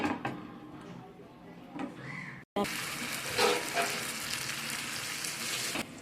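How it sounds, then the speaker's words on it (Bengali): Vegetable paratha batter sizzles in white oil in a pan, a steady close frying hiss that starts abruptly after a brief pause and fills the rest of the clip, with no talk over it. "এইভাবে করে আমি সব পরোটাগুলোকে ভেজে নেব"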